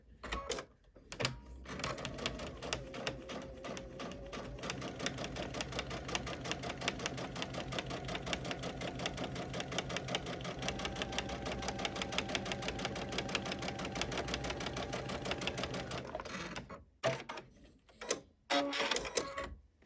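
A sewing machine stitching straight channel quilting rows down a quilt block, a fast steady mechanical chatter running continuously for about fifteen seconds, then a few short stop-start bursts near the end.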